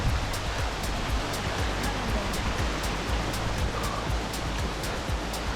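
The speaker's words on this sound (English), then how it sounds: "a big ass waterfall." The waterfall at Devil's Kitchen in Snowdonia gives a loud, continuous rushing roar of falling water, dense and steady throughout, heard up close with no voices.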